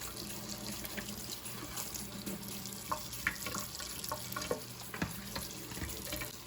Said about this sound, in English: Just gonna rinse these off, get some of the ice out, see how it looks.